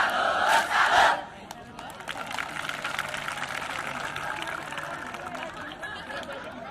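A crowd shouts together briefly, then many people clap in a fast, rhythmic pattern, the "tepuk salut" chant at Universitas Gadjah Mada student orientation, moderately loud and spread out.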